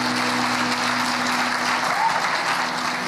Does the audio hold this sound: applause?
yes